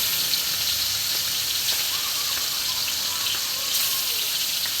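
Fish frying in hot oil, a continuous loud hiss and crackle of bubbling oil close by, steady throughout with faint scattered pops.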